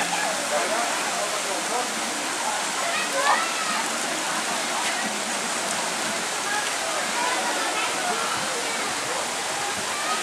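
Rushing, splashing water pours down a tall water park slide at Beach Park in Fortaleza, a steady loud broadband roar filling the whole stretch with no pauses.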